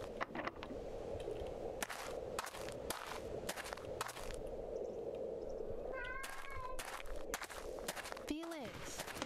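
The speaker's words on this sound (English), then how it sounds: "Do you hear a cat?" Cat meows inside a video game, a few rising and falling cries near the end over steady background ambience and scattered clicks, with a voice talking at moments.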